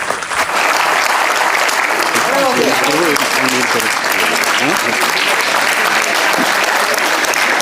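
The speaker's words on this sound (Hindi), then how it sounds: "खड़े होकर जोरदार तालियां।" Loud, dense applause from a standing crowd fills the space without a break, with a few voices rising through it, at an event praising the people of Kashmir.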